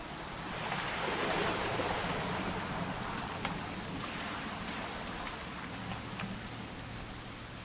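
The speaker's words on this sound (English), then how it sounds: "It's gonna rain the whole weekend," Rain pours in What Remains of Edith Finch, a broad, continuous wash of water noise that swells early and then holds steady, with a low hum underneath and a few sharper drips, no one speaking.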